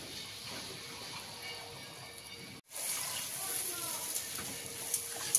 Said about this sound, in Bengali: এই যে একটু জল দেবো, যেহেতু অনেকগুলো মাছ আছে।